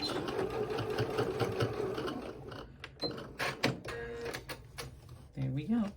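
A sewing machine backstitches across the casing of a small snap-closure bag, running in short close bursts with brief pauses between them.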